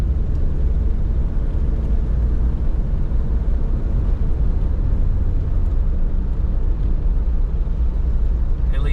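A 1988 Toyota FJ62 Land Cruiser with about 290,000 miles on it drives along, its engine and road noise forming a steady loud rumble from inside the cabin as it shifts into second gear.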